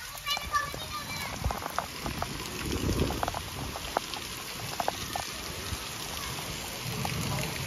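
Heavy, stormy rain falls in a steady broadband wash, with splashy patters and louder bursts throughout, while people talk over it.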